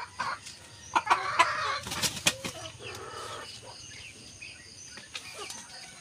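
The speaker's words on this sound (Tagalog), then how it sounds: "Andito yung aking Rhode Island Red." Six-month-old Rhode Island Red chickens cluck and squawk close by in a brief, excited flurry with some wing flapping, then settle to quieter scattered clucks.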